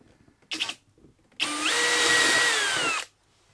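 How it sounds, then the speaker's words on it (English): A short burst of drilling, then a sustained high-pitched whine as a small wood drill bit bores steadily through aluminium for about a second and a half, close by. "It must be aluminium because my little wood drill bit's doing a sterling job in there."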